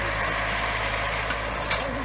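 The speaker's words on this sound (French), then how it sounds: "Ça, c'est le tracteur." A tractor engine idles on a farm field near a lake, a steady low rumbling drone that holds constant throughout without change.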